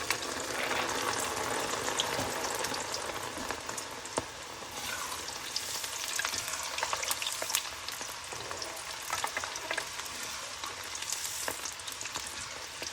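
Chana dal frying in hot oil, a dense, even crackling sizzle that stays at a moderate level the whole time, with occasional sharp pops and stirring clicks and no voices.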